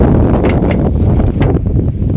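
Steady, heavy wind buffets the microphone throughout, a continuous low roar with faint rustling on top.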